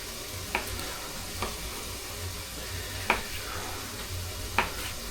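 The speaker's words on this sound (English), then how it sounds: "the onions smell and sound like they're getting ready" Onions sizzle softly as they fry in a pan, a quiet steady crackle broken by four sharp clicks of stirring or utensil taps spread over a few seconds.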